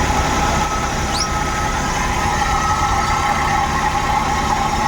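Suzuki Every Wagon engine idling with a misfire, a steady close mechanical hum and rumble that runs continuously without talk.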